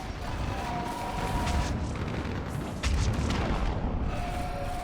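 Artillery fire support explosions in Mass Effect 3: a dense, continuous wall of rumbling blasts and battle noise, with a heavier boom near the middle, loud and close throughout.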